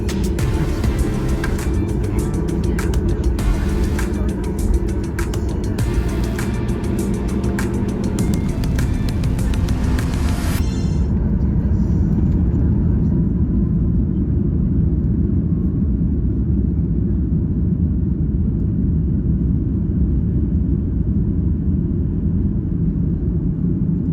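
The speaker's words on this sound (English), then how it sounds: "Taking off out of Glasgow International Airport, we begin our 4-hour 30-minute flight down to Tenerife in the Canary Islands." Inside an airliner taking off from Glasgow International Airport on a flight to Tenerife, a heavy, continuous engine roar and deep rumble fill the cabin. The bright upper hiss drops away partway through while the low drone carries on.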